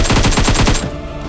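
Rapid burst of automatic gunfire in the PUBG battle royale game, loud and close, about eight quick shots in under a second before fading into a lingering echo, with no talking.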